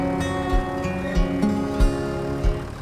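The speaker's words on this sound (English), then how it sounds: "Oh, I hear the engine. I forgot to turn it off." A JCB tractor engine idles steadily in Farming Simulator 25, a continuous low droning hum with faint periodic thumps.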